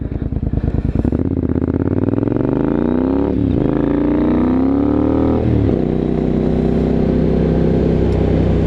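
A Triumph Scrambler 900 motorcycle with an Arrow exhaust, Ohlins suspension and Excel wheels, ridden close up, its engine revving and climbing through the gears with a brief drop between shifts, then settling into a steady, loud drone.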